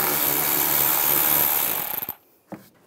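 A power tool with a 5.5 mm socket whirs loudly and steadily while backing a screw out of a 2011-2019 Ford Explorer during horn replacement, sputters and stops, then a single faint knock follows.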